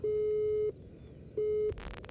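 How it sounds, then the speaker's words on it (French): Telephone busy signal: two steady electronic tones, the first long and the second shorter, separated by a pause, clear and close over a faint background hiss. "Puis ça sonne un peu occupé."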